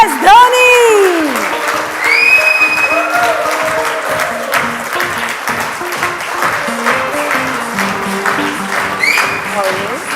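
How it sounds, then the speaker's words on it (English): A live audience claps and cheers in a sustained round of applause welcoming cricketer MS Dhoni onto an interview stage, with a presenter's voice and some whistles over the crowd noise. "please welcome him with a huge round of applause"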